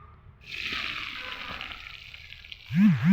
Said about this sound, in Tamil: எண்ணெயை ஊற்றி வெந்தயம் போட்டு காய வச்சுக்கிட்டு இருக்காரு